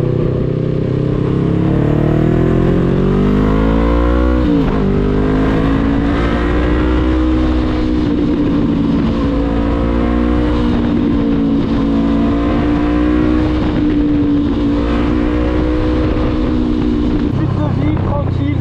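A Honda CB500 motorcycle engine revs hard and continuously up close, its pitch climbing and falling through repeated throttle blips, loud and unbroken for the whole stretch.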